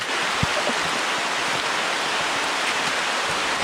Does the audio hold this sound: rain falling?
yes